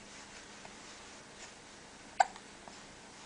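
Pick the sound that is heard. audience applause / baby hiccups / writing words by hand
baby hiccups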